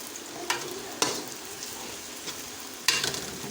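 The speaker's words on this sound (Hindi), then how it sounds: "ये हमारा जो प्याज है इसको मैंने फ्राई कर लिया है।" Onions browning in ghee in a pan give a soft, steady sizzle at close range, broken by a few sharp stirring knocks and scrapes, with no voices.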